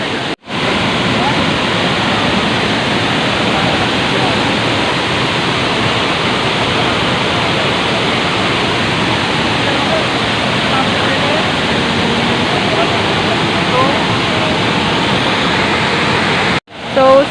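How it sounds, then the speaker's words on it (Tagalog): Bolinao Falls, the tallest waterfall at Bolinao, roars loudly and continuously close by, a dense steady rush of falling water with only brief dropouts. "ito na daw yung pinakamataas na falls dito sa Bulinaw"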